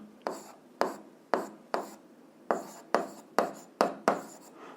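Pen strokes on paper during handwritten physics notes: about nine separate short scratchy strokes in an uneven rhythm, close and clear, with no talking.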